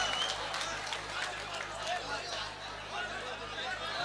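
An audience at an all-India mushaira poetry gathering applauds steadily, dense clapping sustained throughout with crowd chatter and voices mixed in.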